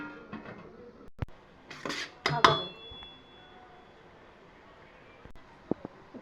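A metal lid is set onto a pot of chicken biryani, making a couple of faint clinks and a short ringing clatter in a quiet kitchen, followed by small scattered taps.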